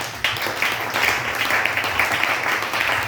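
A church congregation at a French-language service applauding, a steady wash of many hands clapping that fills the room evenly for about three seconds.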